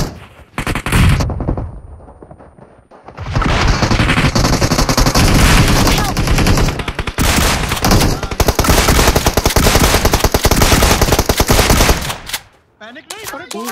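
Loud bursts of shotgun fire in a battle royale video game, rapid dense volleys sustained for several seconds, then tapering off, with game sounds around them.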